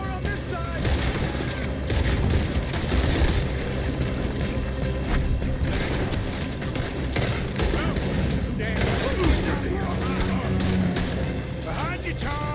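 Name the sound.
gunfire in shootout, Red Dead Redemption 2 video game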